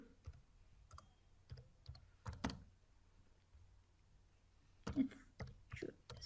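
Typing on a keyboard into a search bar: scattered soft key clicks, quiet and close, in irregular bursts with pauses between, and faint whispery talk in places.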